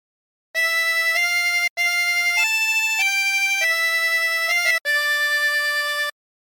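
A harmonica plays a short melody of steady, clear notes in three phrases with brief breaths between, stepping up and down in pitch.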